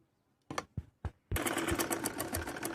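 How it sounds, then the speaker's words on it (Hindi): An electric sewing machine stitches the seam of a homemade palazzo in fabric, first in three short bursts and then in a steady, loud run of rapid mechanical clatter, close by with no talk. "देखिए ये हमने आसन में पूरे में सिलाई लगा ली है"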